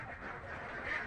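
Ducks on a fish farm in Nageshwari, Kurigram, raised alongside chickens, give a brief, faint quack in the distance.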